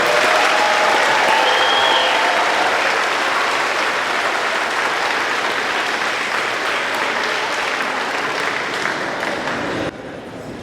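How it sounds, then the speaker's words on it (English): Sustained applause from a school concert audience after a 7th and 8th grade middle school band performance in Hebron, Indiana, steady and dense throughout, dropping slightly near the end. "So one more round of applause for the 7th and 8th grade band."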